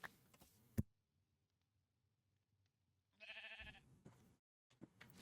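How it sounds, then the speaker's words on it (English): A goat bleats in Minecraft's FTB Skies 2 modpack, one quiet wavering game bleat after a soft click and a long near-silent pause, followed by faint ticking. "Go away, goat."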